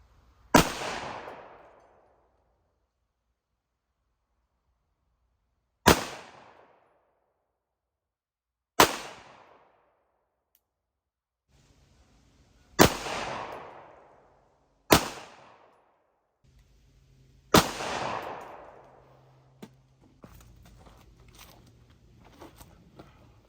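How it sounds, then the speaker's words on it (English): Six separate 9mm pistol shots firing factory and hand-loaded ammunition, each a loud sharp crack with a quick decay, spaced several seconds apart at close range, with faint rustling and handling noise near the end. "we just shot the 9mm, we shot the factory ammo, and then we shot the hand load ammo"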